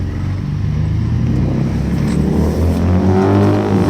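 A Ford Ranger Raptor V6 with a Magnaflow exhaust at full throttle in Baja mode on an empty street, its engine giving a loud, steady, deep roar that holds strong and climbs slightly from start to finish, with no talking.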